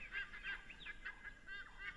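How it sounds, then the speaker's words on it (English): Geese or similar fowl honk repeatedly in the morning, a steady series of nasal calls at moderate distance over a soft background hiss. "Listen to the morning songs of the birds."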